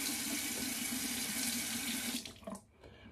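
Hot water runs steadily from a bathroom tap during a shave with a heated razor, a close, even splashing stream that cuts off near the end, leaving a few faint drips.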